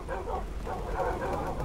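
Minecraft dogs (wolves) barking and whimpering in the video game, a run of short yips and whines heard steadily over background game noise with faint talk.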